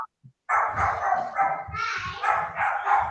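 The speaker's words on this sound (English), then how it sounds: "You got a couple of dogs there, Melanie?" A Chihuahua barks repeatedly, close and loud, in a quick run of sharp yaps after a brief pause at the start.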